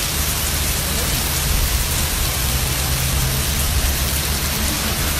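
Heavy rain pours down steadily in Ramadi, Iraq, during a storm with hail and flooded streets, making a dense, loud, unbroken wash of noise with no talk.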